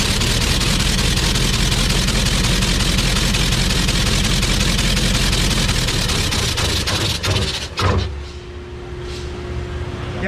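Engine cutaway at an engine factory, turned by a machine for a compression check, giving a loud, steady, dense mechanical churn that abruptly stops near the end and leaves a faint hum.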